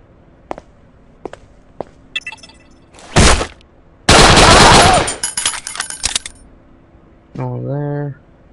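A shotgun is reloaded in the Sierra 7 video game, with several sharp metallic clicks, a loud blast, a long burst of heavy firing, and then a short spoken phrase near the end.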